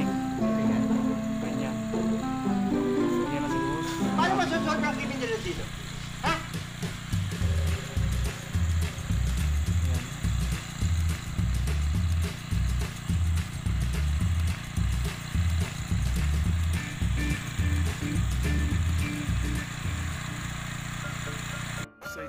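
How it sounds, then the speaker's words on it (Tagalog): A farm tractor engine runs steadily in a field in Japan, a loud continuous mechanical drone with a rhythmic low chugging that persists the whole time. "Ito yung hawak kong traktora."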